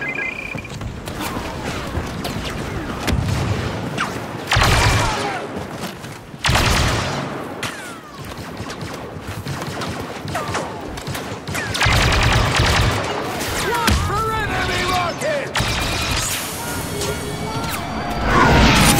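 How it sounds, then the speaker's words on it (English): Blaster gunfire in Star Wars: Battlefront 2 at the Battle of Jakku, with rapid bursts of shots, crashing impacts and booming explosions coming in waves over about twenty seconds, mixed with the sounds of battle. "Wait until I open fire."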